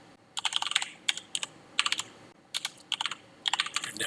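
Fingers tap out a sudo command on a computer keyboard in quick bursts of close, crisp keystrokes separated by short pauses, with no one speaking.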